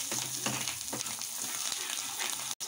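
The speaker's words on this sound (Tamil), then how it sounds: "முட்டை வந்து மெதுவாக தான் பொரிய ஆரம்பிக்கும்" Fish roe fries in a pan with a steady, close, crackling sizzle and soft stirring pops, continuing unbroken until a brief dropout at the very end.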